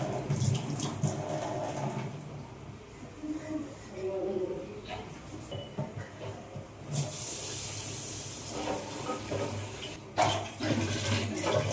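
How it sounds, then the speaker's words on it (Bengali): Water running from a tap into a container in a home kitchen, a soft intermittent splashing hiss that swells louder in bursts near the middle and end, with someone speaking over it. "এখন এখানে জলটা ভরছি"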